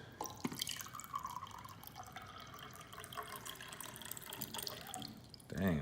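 Water trickles and drips steadily as it is poured out of a 30 oz Yeti tumbler, fairly quiet and close, ending with a soft thump.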